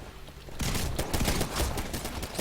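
A shotgun fires repeatedly in the video game Titanfall, several loud close blasts in quick succession starting abruptly after a quieter game ambience, layered with continuous battle noise.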